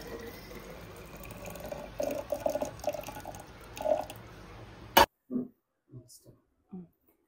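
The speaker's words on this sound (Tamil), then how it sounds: "இந்த ஃப்ளாஸ்கில் ஊற்றி வச்சிடுறேன்." Boiled cumin water poured from a pot into a flask in a home kitchen, a steady splashing trickle lasting about five seconds, followed by a few short clinks and dribbles after it stops.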